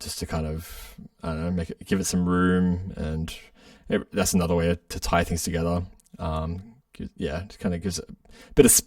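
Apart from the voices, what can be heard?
No everyday noise stands out behind the speech.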